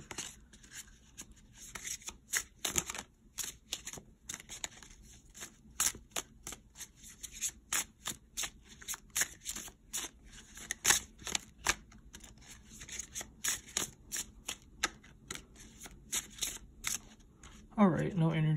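A tarot card deck shuffled by hand, producing dense bursts of quick riffling and flicking at close range, soft and irregular, with faint speech underneath.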